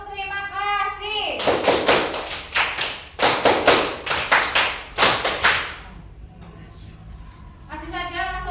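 Children and a teacher perform the Indonesian rhythmic "thank you" clap pattern in a classroom, with sharp, closely spaced hand claps in repeated bursts. The bursts are bracketed by chanted speaking voices.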